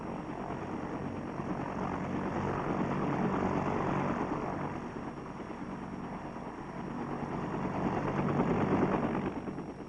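US Army helicopters in Vietnam taking off and circling, a loud continuous rotor and engine roar that swells and fades as the aircraft pass, heard alone without talk.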